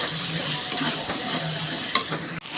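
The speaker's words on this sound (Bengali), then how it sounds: "আমি এর মধ্যে দেবো একটু কাশ্মীরি লঙ্কার গুঁড়ো, দিয়ে আবারও ভালোভাবে কষিয়ে নেব মশলাটা" Spice masala with Kashmiri chili powder frying in a pan for chicken rezala, with a low steady sizzle and intermittent scraping stirs. A brief clatter comes near the end.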